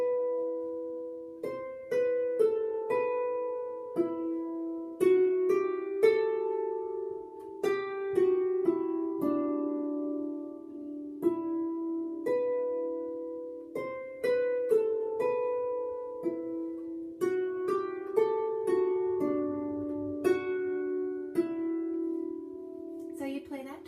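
A harp plays the right-hand A part of Bonny at Morn as a steady stream of plucked, ringing notes over about twenty-four seconds. The sound is close and clear, with no talking.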